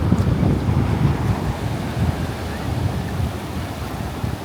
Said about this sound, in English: let's make communion here with the Atlantic Ocean